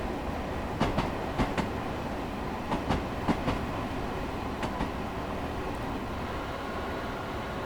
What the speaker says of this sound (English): Yeah, it's quite busy, the train.